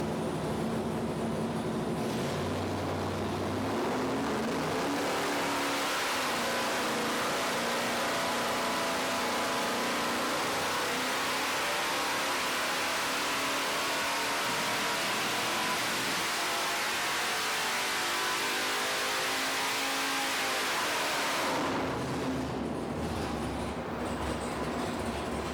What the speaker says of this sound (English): we got our Power Adder 540 big block Chevy from Blueprint Engine was configure it and put it up on the dyno